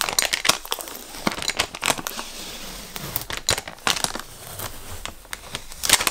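A cup wrap's backing is peeled away with crinkly, crackling rustles that come in irregular bursts and short sharp snaps, close up and with no voices.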